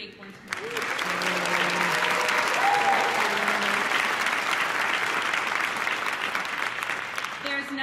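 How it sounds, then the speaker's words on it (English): Sustained applause from a large audience, steady and dense from start to finish, with a brief lull at the very beginning. "Let's hear it for Jake once more."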